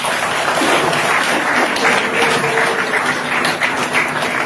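An audience at a signing ceremony between two dignitaries breaks into continuous, dense applause, a full wash of clapping that stays loud and even throughout with no pause.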